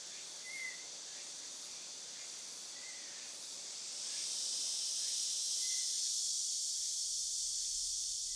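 Cicadas sing in a dark Jeju forest, a continuous high, hissing buzz that swells noticeably louder about halfway through, with a few faint bird chirps scattered over it.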